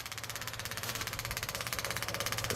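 Small engine of a 6 kW gasoline-diesel separator unit running steadily on a petrol and diesel mix, a fast even chugging pulse with a faint rising knock, heard close with no talking.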